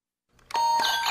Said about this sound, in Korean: 그런데 이 알람시계의 알람 소리는 80데시벨입니다